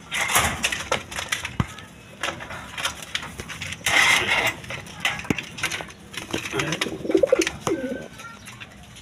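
Pigeons at a seller's place coo in low, murmuring bursts, mixed with wing flutters, shuffling and scattered clicks, nearby and fairly busy throughout.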